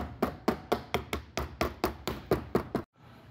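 A hammer taps a paint can lid shut with about a dozen sharp, evenly spaced knocks in quick rhythm, close and clear, ending abruptly in near silence.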